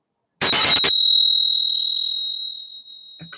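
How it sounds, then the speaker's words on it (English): A spiritual bell struck once, ringing out a clear, sustained pure tone that begins loud and slowly fades over a few seconds, heard alone. "the spiritual bell that rings out, the tone"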